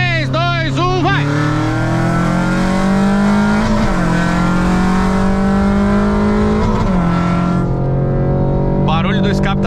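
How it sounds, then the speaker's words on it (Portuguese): Sandero RS Nitro exhaust roaring loud and close during a drag race against a Cruze 1.4 Turbo, with steady high revs, a brief gear change dip near four and seven seconds, and a person talking over it. "O barulho do escape tá tão alto agora."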